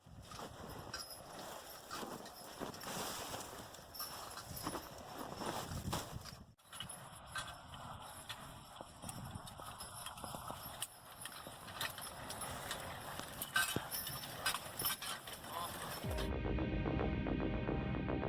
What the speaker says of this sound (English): American Brabant horses haul a container